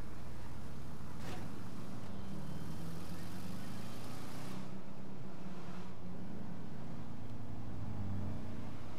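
A car engine in GTA 5 drones steadily at low pitch, its tone shifting slightly as it changes speed, with brief whooshes passing over it.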